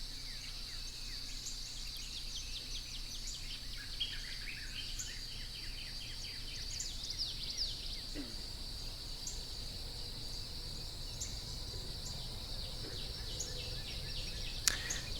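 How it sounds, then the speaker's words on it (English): An evening ambient bed for a game built in Unreal with Wwise, with a steady high chirring of insects and occasional faint bird calls, soft and continuous throughout. "So you can hear now that the evening insects have sort of started in that ambient beds."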